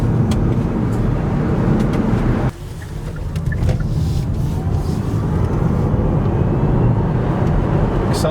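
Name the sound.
Kia e-Niro electric car accelerating hard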